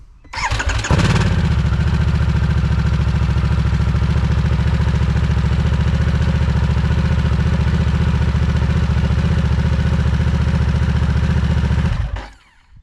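A 2024 Harley-Davidson Nightster Special is fired up in neutral after an oil change. The engine catches with a brief starter whir, then settles into a loud, close, steady idle before cutting off near the end.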